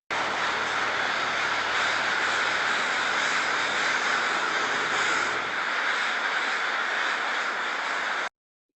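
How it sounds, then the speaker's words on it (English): Many crows cawing together as they fly in overhead to a communal roost, a dense, continuous chorus of overlapping calls, loud and close, with a low aircraft-like rumble beneath for the first part. "watching up above you as those crows come flying"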